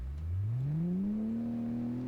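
A damaged car engine in BeamNG.drive, with a blown head gasket and critically low, overheating oil, revs upward in one steady rising whine, loud and close with no talk.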